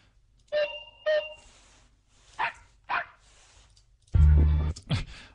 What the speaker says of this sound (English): He actually kind of sounds almost on key. I didn't know dogs barked on key.